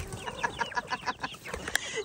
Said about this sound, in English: Behold, my chickens.